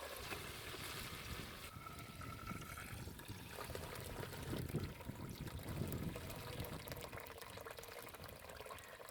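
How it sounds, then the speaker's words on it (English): Water tipped from a tub into a filter, leaving the silt behind, runs in a steady close trickle and splash that keeps going the whole time without a break, no speech. "I'm just going to tip this so only the water goes in"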